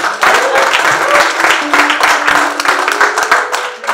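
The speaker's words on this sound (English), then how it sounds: "Please, a round of applause for our own Dr." Lively applause from an audience welcoming a guest at a Nigerian High Commissioner's visit, many hands clapping densely and continuously with faint voices mixed in.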